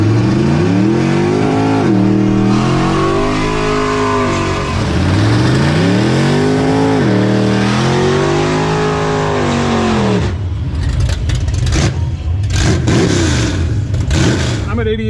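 A full-race, tubbed-out, lightweight Chevrolet Monza drag car on big tires blasts down the strip. Its loud engine climbs through several rising gear pulls, then breaks into a raw, roaring burst of power.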